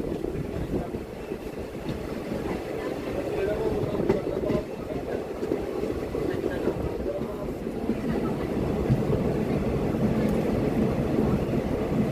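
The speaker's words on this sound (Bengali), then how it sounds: "ট্রেন এখন প্রবেশ করছে উদয়পুর রেল স্টেশনে" A train rumbles into Udaipur railway station in Tripura, a steady close rolling roar with faint clatter that lasts throughout.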